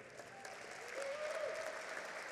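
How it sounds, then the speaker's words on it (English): Steady, dense applause from a seated audience at the 2023 National Aviation Hall of Fame enshrinement ceremony, holding at an even level and swelling slightly toward the middle of the stretch. "I did not expect FAA figures to get a round of applause tonight."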